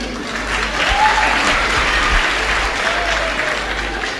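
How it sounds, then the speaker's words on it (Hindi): A stand-up comedy audience claps steadily and loudly, sustained applause filling the whole stretch without pause. "कितने लोग जानते हैं, ताली बजा दीजिए।"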